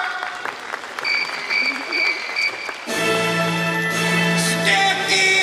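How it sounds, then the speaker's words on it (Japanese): A short burst of applause from an audience at a Disney On Ice show, then music and voices take over partway through. "拍手拍手。"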